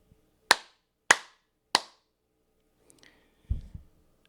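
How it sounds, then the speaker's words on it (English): Three sharp hand claps, evenly spaced about half a second apart, close and loud in a quiet room, each with a short decay, followed by faint handling noises and a low thump. "let me just press the record button here and clap my hands, I don't know, 2 or 3 times for post-syncing"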